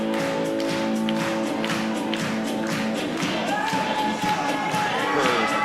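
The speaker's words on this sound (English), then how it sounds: "Crowd clapping in unison." A wrestling crowd claps in steady unison, loud rhythmic beats ringing through the arena over blaring entrance music, with scattered cheers mixed in.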